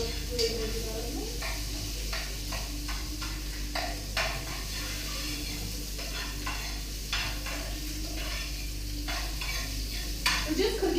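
Vegetables and whole cloves cooking in a pan, a continuous sizzle under a low steady hum, with occasional scraping stirs close by.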